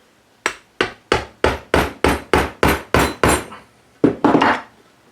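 A screwdriver struck repeatedly while working into a Sideshow Collectibles Jean Grey premium format statue, about ten loud, evenly spaced knocks followed by a short pause and a final cluster of blows, close and alone.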